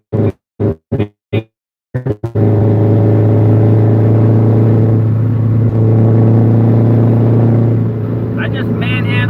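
A vehicle engine kicks in after a few short spoken phrases and holds a loud, steady, heavy drone with little change in pitch through the rest of the clip.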